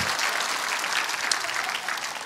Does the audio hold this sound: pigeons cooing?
no